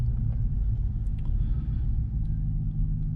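A Ram 1500 with the 5.7L Hemi V8 and a Borla S-Type catback exhaust pulls away gently, giving a deep, steady exhaust rumble that stays fairly even with no hard revving.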